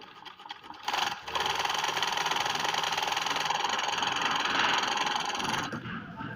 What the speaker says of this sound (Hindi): ये हम थोड़ा सा हुड का मोटा कपड़ा लगा लेते हैं